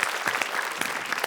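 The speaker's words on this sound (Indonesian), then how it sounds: "Kita kasih tepuk tangan dulu untuk para peserta kita." A studio audience at a comedy marathon-race show applauds the participants in a dense, continuous wash of clapping, fairly loud and without pauses.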